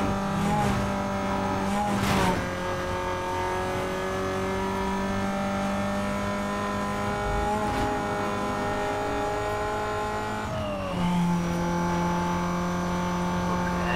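Race cars in the video game Need for Speed Most Wanted roar through a street race, one engine droning close and loud with repeated gear shifts and pitch changes, over other cars and faint tire noise.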